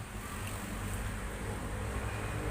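A Mitsubishi 4DR5 diesel engine idles in an AUV, a steady low rumbling drone held evenly throughout with no voices.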